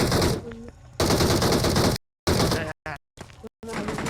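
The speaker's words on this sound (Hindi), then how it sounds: "अरे आ रही फायरिंग, फायरिंग आ रही।" Rapid bursts of video game gunfire crackle in dense, loud volleys, broken by sudden dropouts of silence, with excited voices shouting over the shooting.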